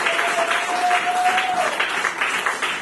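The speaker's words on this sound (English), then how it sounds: "Clap hands for Jesus, somebody." A church congregation at a service in Dar es Salaam claps hands in steady rhythm, a dense, fairly loud wash of clapping with a brief tonal whistle-like sound partway through, and no talking.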